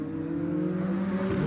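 McLaren Trophy race cars at Sonoma Raceway, braking and working into the chicane, with a steady loud engine drone and sustained revving throughout, no voices.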